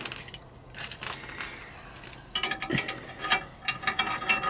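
A ratchet clicks in short bursts while tightening locking U-bolts on a plate mounted to a tie rod, with metallic mechanical clatter and brief pauses between the strokes, close up.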